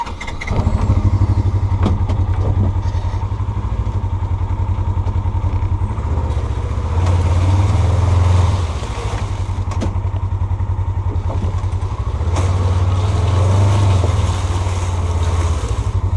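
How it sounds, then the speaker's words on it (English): A Ranger utility vehicle drives through the woods, its engine droning loud and steady close by, with the pitch rising and falling as it moves along. No one speaks. "Sometimes it's fun just taking a ride on the Ranger through the woods."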